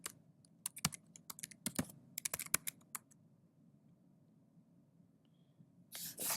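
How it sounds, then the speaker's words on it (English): Quiet tapping of a computer keyboard as a password is entered, a burst of irregular keystrokes over about three seconds followed by silence, then a short rustle at the end. "Here's where we need to enter the master password in."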